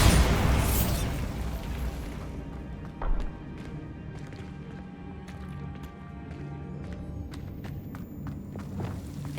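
Bombarda spell blasts in Hogwarts Legacy: a loud burst up front, then a second thump midway, followed by scattered footsteps, pops and lighter combat clatter.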